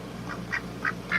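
A domesticated duck gives three or four short, nasal quacks in quick succession, close by and fairly clear against a low background hum.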